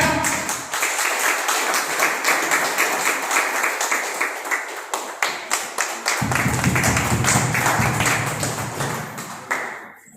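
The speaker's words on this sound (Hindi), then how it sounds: "जोरदार तालियां, जोरदार तालियां।" Steady, fairly loud applause from an audience at an honoring event, many hands clapping continuously for about ten seconds before tapering off at the end.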